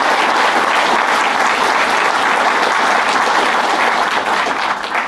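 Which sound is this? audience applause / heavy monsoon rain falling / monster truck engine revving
audience applause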